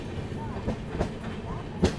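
Bhagat Ki Kothi Express train running, heard from inside a first AC coach as a steady rolling rumble with soft rhythmic wheel clicks and a sharper knock near the end.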